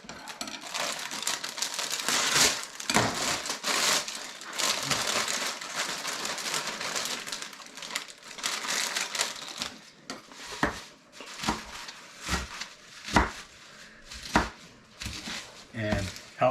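A sharp dollar-store knife roughly chops spinach on a board, a steady run of crisp, close cuts and taps, with a voice talking over parts of it.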